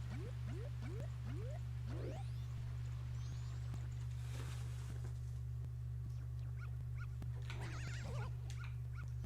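Dog yips and whimpers from the video game The Legend of Zelda: Majora's Mask, several short rising calls in quick succession over a steady low game hum, then more scattered cries later.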